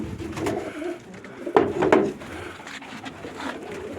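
Pigeons cooing nearby, soft low throaty calls repeating in short bursts, with a light wooden knock partway through.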